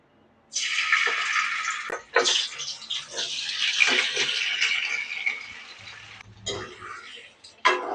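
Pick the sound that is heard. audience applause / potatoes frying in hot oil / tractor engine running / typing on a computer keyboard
potatoes frying in hot oil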